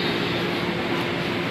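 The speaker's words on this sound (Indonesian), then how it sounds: "Ini kereta yang mau ke Tanah Abang, Duri Angke, Kampung Bandan." A KRL commuter train at Manggarai station in Jakarta, a steady low rumble and hiss of the electric train running close by, unbroken for the whole short stretch with no voices.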